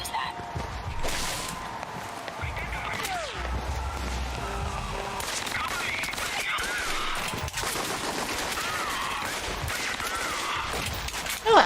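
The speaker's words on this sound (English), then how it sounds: "The noise from those fireworks should cover the sound of gunfire." Dense gunfire bursts and rattling shots in the video game Alpha Protocol, with fireworks nearby, steady and loud over a continuous noisy backdrop, with voices murmuring underneath.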